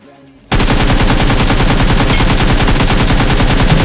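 Rapid automatic gunfire rings out loud and continuous in the BGMI battle royale game, a dense burst of repeated shots that starts abruptly after a short quiet lead-in.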